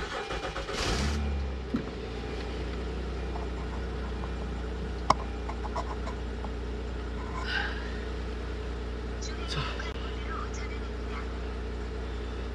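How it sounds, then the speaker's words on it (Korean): A car engine starts and settles into a steady idle after a blower motor replacement, a low continuous hum running throughout with a few faint clicks and knocks, no talk over it. "자, 이제 시동을 걸었습니다."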